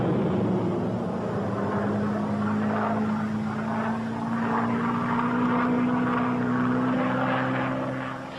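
WWII fighter planes dive-bombing, skip-bombing and strafing Japanese shipping, heard as a steady, loud propeller-engine drone with a sustained low hum throughout and no voices.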